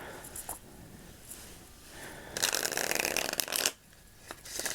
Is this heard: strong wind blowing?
no